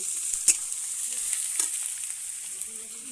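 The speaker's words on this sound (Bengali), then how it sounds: "পেঁয়াজ কুচি, আলু দিয়ে আমি পেঁয়াজ আলুটা ভেজে নেব।" Chopped onion and potato frying in a pan, giving a steady, close, bright sizzle with a couple of brief stirring clatters.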